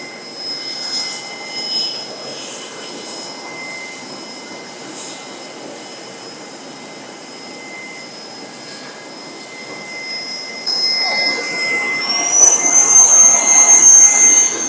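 Jet aircraft engines whine steadily near the plane while passengers walk out to board for a flight to Cabo San Lucas, Mexico, a constant high tone that swells louder and rises in pitch toward the end.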